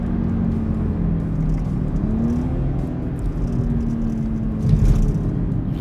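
A BMW X3 M SUV rumbles through a curve in Sport Plus mode, its engine and exhaust droning steadily at close range, with a brief surge near the end.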